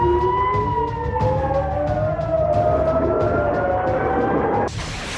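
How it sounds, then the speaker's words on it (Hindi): Air raid sirens wail over Israeli settlements near the Lebanon border, several overlapping rising-and-falling tones sounding loud and steady together before cutting off near the end. "हवाई हमलों के सायरन बजने लगे थे"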